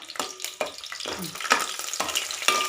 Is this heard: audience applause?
no